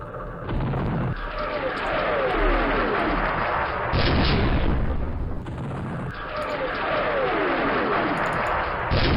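155mm artillery fire in the Campaign Series Middle East war game: continuous loud booming and rumbling barrages with repeated blasts, dense and sustained throughout, with a voice talking over the top.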